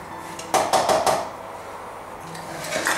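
A spoon scrapes and clinks against a bowl while mixing already softened butter for cookie dough, a short burst of close knocks followed by quieter stirring.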